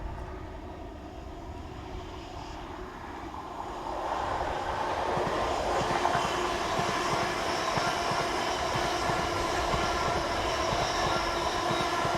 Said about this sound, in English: This is 800 316 on the 943 from Swansea to Paddington.